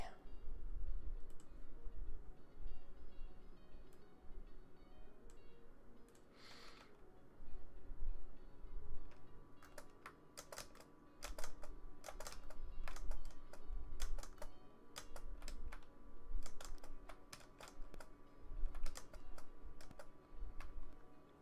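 Computer keyboard typing close by, with scattered clicks early on and then dense bursts of rapid keystrokes in uneven runs, heard with faint talk in the background.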